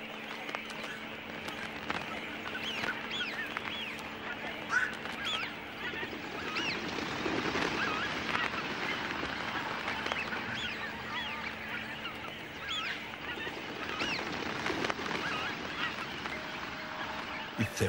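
A large flock of around ten thousand cormorants resting in willows in the Astrakhan wetlands gives off a soft, steady chorus of distant croaks and calls, faint and layered with no single bird standing out.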